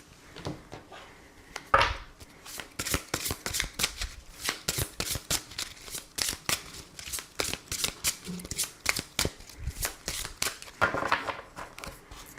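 Tarot cards are shuffled and cut by hand, giving a long run of crisp riffling slaps and flicks in quick irregular bursts, close and clear, with a few brief soft sounds in between.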